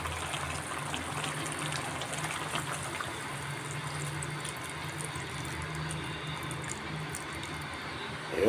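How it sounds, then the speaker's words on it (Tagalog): Soy sauce pours into vinegar simmering for chicken liver and gizzard adobo, a soft continuous splashing and bubbling that stays steady throughout. "Lalagyan ko na po ng toyo."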